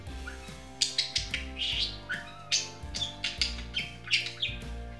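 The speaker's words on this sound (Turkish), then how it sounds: "Muhabbet kuşları ise daha kısa ıslık çalabilir." A pet budgerigar gives short, sharp whistles and squawky chirps in quick repeated bursts, close and moderately loud over soft background music.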